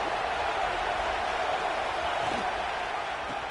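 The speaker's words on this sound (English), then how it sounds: "the crowd really making some noise now, trying to help out this defense to get this stop near the goal line" A stadium crowd at a football playoff game roars steadily as the defense tries for a stop near the goal line, a dense, continuous wash of cheering at even loudness throughout.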